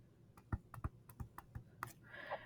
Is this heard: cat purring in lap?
no